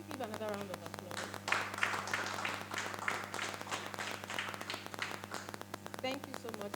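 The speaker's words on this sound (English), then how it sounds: "can we give another round of applause?" Audience applause after a dietitian's presentation at a juice day wellness event, a steady spread of clapping running the whole stretch at moderate level, with a background hum beneath.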